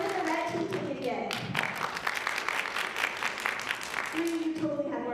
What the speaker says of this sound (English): You totally had more applause that time.